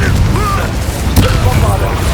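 A Confringo spell explosion in the video game Hogwarts Legacy sounds as a dull boom with a sharp burst near the middle, set against a steady bed of game sound and voices.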